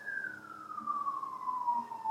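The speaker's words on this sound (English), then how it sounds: "sirens, because we're in New York City" An emergency vehicle siren on a New York City street, one long wail sliding slowly down in pitch, heard from a distance over quiet city background.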